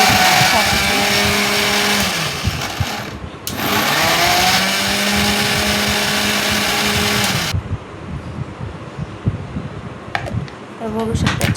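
A kitchen blender grinds green chilies and coriander into a fine paste in loud, whirring bursts. The motor stops briefly, restarts and runs steadily, then gives way to a quieter stretch with light clatter at the end.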